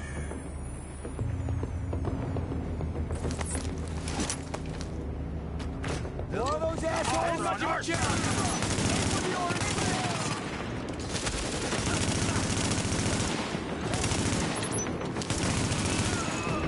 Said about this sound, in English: With all that gunfire drawing the Riker's attention, you're gonna have a nice fat bullseye on your back.